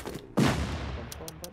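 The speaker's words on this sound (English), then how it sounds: "Explosions here, explosions there. Little boom there, little boom here." Explosions go off in a PvP video game, a sharp loud blast landing after a moment of quieter noise and rumbling away, followed by a few short crackling bursts.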